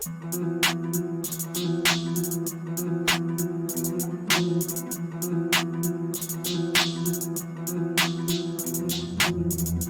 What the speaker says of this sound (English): another hi-hat, and I pitched it down the whole octave